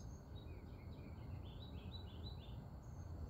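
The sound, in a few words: birds singing outdoors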